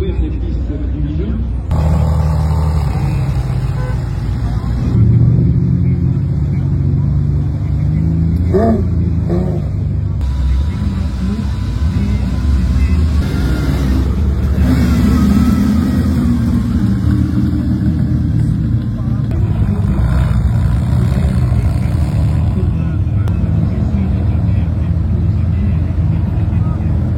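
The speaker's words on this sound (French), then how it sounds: "vous voyez quand même le balai des voitures qui s'apprêtent à partir donc sur la piste" Ferrari cars rumble on a racing circuit, a continuous loud engine drone with surging revs and passing cars layered together, while people talk over the noise throughout.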